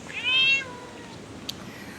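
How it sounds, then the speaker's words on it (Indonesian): A cat gives one clear, close meow near a cafe entrance. It rises and falls early on against quiet background noise, with a small click afterward. "Ada pus. Meow."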